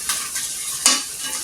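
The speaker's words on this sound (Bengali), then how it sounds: "দিয়ে এভাবে নাড়া দিব" Fried chicken feet are stirred in a pan, giving a short scrape-and-sizzle with a couple of quick clattering sweeps against the metal, close and moderately loud.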